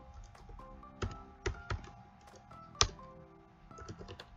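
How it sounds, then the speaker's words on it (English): Typing on a computer keyboard, with irregular close clicks and a few sharper, louder key strikes spread over several seconds against a faint hum, with no voices. "I'm gonna type in, yep, it is here"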